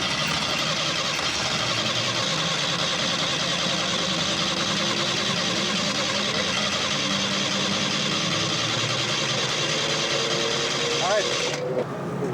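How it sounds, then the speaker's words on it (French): A car engine with a failed head gasket, probably running on only three cylinders, idles with a steady, rough, loud drone throughout, with people speaking faintly in the background. "le moteur est sur 3 cylindres probablement, mais il faudrait qu'il démarre sur 3 cylindres malgré tout"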